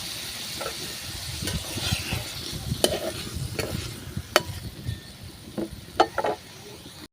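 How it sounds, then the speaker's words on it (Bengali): Eggplant fries in a pan with a low, steady sizzle, while a utensil scrapes and clacks against the pan in irregular stirring strokes, close by. "আমার বেগুনটা হালকা ভাজা দিছি"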